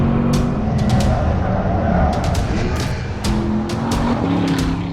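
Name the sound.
2021 Porsche Panamera racing on Nürburgring Nordschleife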